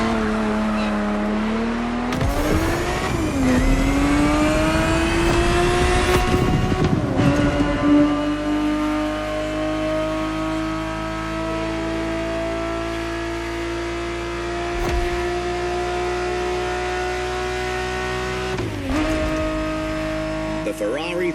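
A Ferrari 365 GTB4 engine in the racing game The Crew Motorfest revs hard with rising gear sweeps and a tire squeal, then holds a steady high drone, while a voice narrates throughout.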